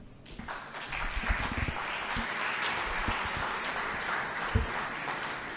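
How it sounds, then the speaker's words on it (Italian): Students applaud as an introductory welcome at a university talk held in an economics faculty, a steady room-filling clapping that starts almost at once and holds at an even level throughout, with a few sharper claps standing out near the front. "Grazie ragazzi per l'applauso introduttivo."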